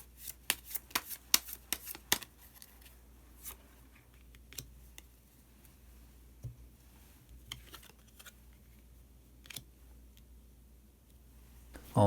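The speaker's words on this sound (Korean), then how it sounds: "카드 한 장을 더 뽑고 이야기 계속 나오도록 하겠습니다" Tarot cards are shuffled in a quick flurry of crisp riffling snaps, followed by sparse soft taps and slides as a card is drawn and laid down, close and quiet with no talking.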